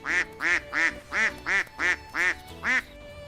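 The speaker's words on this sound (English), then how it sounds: "A duck family is crossing." A family of ducks crossing near a drain gives eight loud, close quacks in an even rhythm, each about a third of a second apart, with near silence between them.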